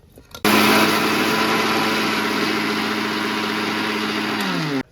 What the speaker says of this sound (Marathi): मी मिक्सरला लावते